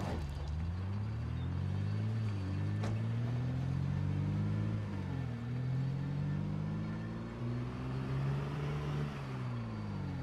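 A Dodge car with one tire missing drives along in the zombie survival game Project Zomboid, its engine droning loud and steady with the pitch sliding up and down as it speeds and slows, no voices.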